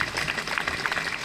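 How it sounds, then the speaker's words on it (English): Brief, soft applause from the audience at a 2025 school commencement ceremony, a short burst of scattered clapping at moderate distance. "can we get a nice round of applause?"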